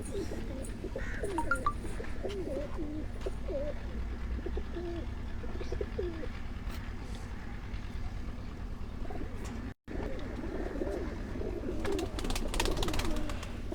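Pigeons coo in repeated soft, rolling calls close by, with a female among the birds, over a steady low background hum and scattered chirps, broken by a brief gap near the end.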